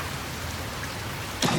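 Steady rain ambience from the video game Silent Hill 2: an even, hissing wash of falling rain that holds level throughout, then turns slightly louder and fuller in the last quarter second.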